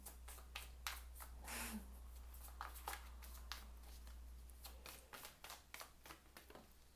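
A deck of playing cards being shuffled over and over, giving a run of sharp, crisp riffling bursts and taps at an irregular rhythm, close and fairly quiet against a steady low hum.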